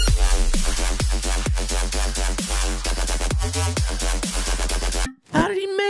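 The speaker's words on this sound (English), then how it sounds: "Let's make a shark attack style bass house stab in Serum." A synthesized bass house stab made in Serum in the shark attack style plays in a repeating pattern of punchy, pitch-dropping growls, loud and close, and a brief voice follows at the end.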